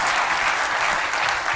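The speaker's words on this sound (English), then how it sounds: "I think that deserves a round of applause" An audience at a political gathering with Mike Pence breaks into applause, a thick, continuous wash of many hands clapping at close range, with no voices on top.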